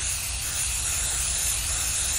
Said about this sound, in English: Spray your dark brown into a circle.